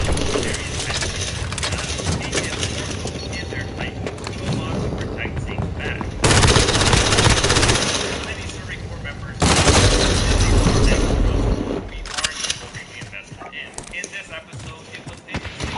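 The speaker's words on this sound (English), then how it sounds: "Got a sentry gun on station." An automated sentry gun opens fire in Modern Warfare, loud bursts of rapid gunfire in two heavy stretches over a busy game soundscape with voices and scattered shots.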